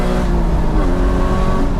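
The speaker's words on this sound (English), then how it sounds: "It's very loud in here, the exhaust sound." Exhaust of a 2020 Porsche Cayman GT4 heard from inside the cabin while driving, a loud, steady low engine drone that fills the whole clip with no talking.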